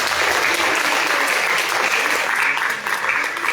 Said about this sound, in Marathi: एकदा या मुलांसाठी जोरात टाळ्या वाजवा.